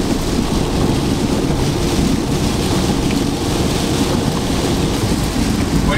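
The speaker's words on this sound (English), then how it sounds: "Look at this rain." Heavy rain pours in a constant, loud broadband roar with a low rumbling undertone, unbroken for the whole stretch.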